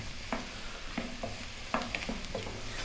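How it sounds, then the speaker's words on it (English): Mushrooms cooking down with onions and garlic in a pan over gentle heat, a steady low sizzle with repeated spoon-stirring scrapes at an irregular rhythm, close and moderately loud. "Let's cook those mushrooms down with the onions and the garlic."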